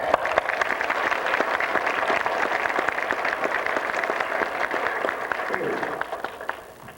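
A graduation audience claps in a lively, even patter of many hands, fairly close and sustained, fading out toward the end.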